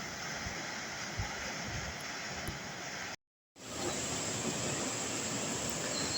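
Bar Changay Falls in Sikkim roars with a steady, dense rush of water, constant and fairly loud, broken by a brief moment of silence midway before the roar returns at full strength.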